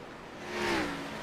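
An Xfinity Series stock car at Richmond accelerates on track, heard from the roof camera as a rising, droning engine whine that swells to a peak midway and holds, loud and alone.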